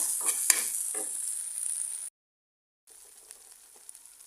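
Noodles and soy sauce stirred in a hot pan give a bright, steady hiss with a few scraping strokes. The sound cuts out briefly, then returns quieter with light clicks.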